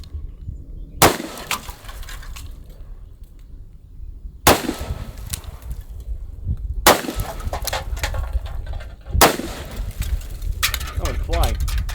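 Four loud, sharp revolver shots from a Smith & Wesson Model 29, spaced a few seconds apart, each with a broad crack and ringing decay over steady outdoor background noise.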